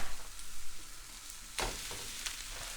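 Minced beef sizzles and spits in a hot pan, a steady frying hiss with a couple of louder bursts as the meat is stirred and broken up, heard close and alone.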